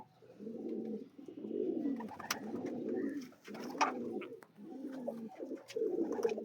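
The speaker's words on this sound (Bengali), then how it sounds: "নর পায়রাটা দেখুন।" Pigeons coo in a steady run of soft, throaty, rolling calls, close by and repeating with short gaps.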